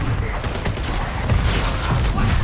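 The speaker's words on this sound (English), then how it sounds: "There it is. Enemy Mortar strike." An enemy mortar strike in a first-person shooter video game sends dense, loud rumbling explosions that blur into a continuous barrage, with a voice talking over them.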